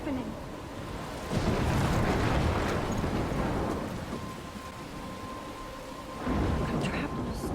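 A thunderstorm in the video game Life is Strange, with two loud rolling thunder rumbles over steady pouring rain and wind, heard alone without talk.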